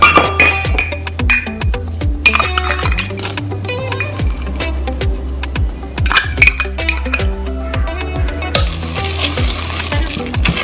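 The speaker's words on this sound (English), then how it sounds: "Now I will go ahead and fold in the M&Ms." Spoon or spatula working M&M candies into homemade cookie dough in a bowl, giving repeated scraping and soft clinking strokes in a steady rhythm, close and fairly loud, with no talking.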